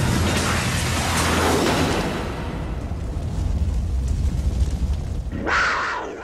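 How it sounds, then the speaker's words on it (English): CGI explosions in a TV series: a rolling, rumbling roar of low booms that fades to a lighter crackle, then a sharp rushing blast bursts out near the end. "see those CGI explosions there"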